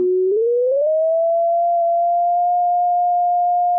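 A steady electronic tone from an eclipse light-sensing app rises in pitch as more light reaches the sensor, gliding upward in the first second and then holding a clear, constant high note alone.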